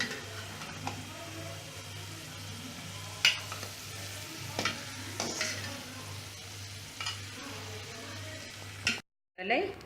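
Fried filling for pep sticks is stirred and tossed in a pan, with soft scraping and gentle sizzling under a low steady hum, a few sharper clinks, and a brief silence near the end.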